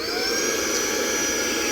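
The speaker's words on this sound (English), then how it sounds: "vacuum to get that residue off" A vacuum cleaner runs steadily at close range, sucking scraped gasket residue off a small 3.3 hp Mercury two-stroke outboard motor, a continuous whining roar with no pauses or talk.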